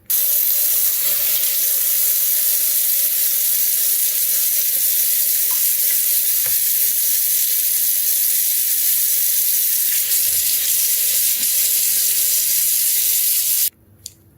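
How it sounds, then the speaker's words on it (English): Kitchen sinks and countertops washed down under a running tap: a loud, steady rush of water pours close by for most of the time, then cuts off abruptly near the end with a small knock. "I'm going to sterilize my sinks and all my surfaces and wash those all down"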